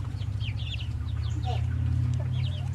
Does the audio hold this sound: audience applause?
no